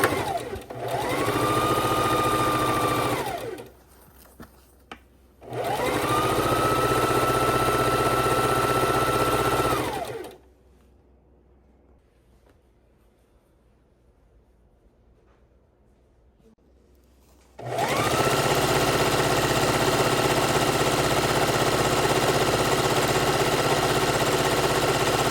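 Domestic sewing machine running quarter-inch seams down fabric strips for a jelly roll quilt, steady whirring bursts of several seconds each separated by pauses and a long silent gap before resuming, close and loud.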